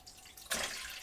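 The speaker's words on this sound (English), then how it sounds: "I'm going to add a strainer to our pot and just pour this in." Dandelion tea poured through a strainer into a pot at a cabin, a brief watery splash and steady trickling that starts abruptly midway and continues close by, with no talk.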